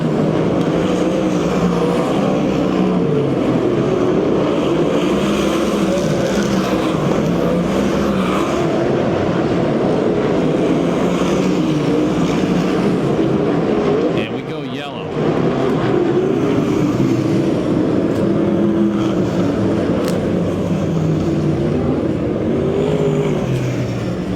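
Sprint cars in a USAC/CRA race at Perris, California, roar steadily around the track, the loud engine drone dipping briefly midway before surging back, while an announcer talks over the noise.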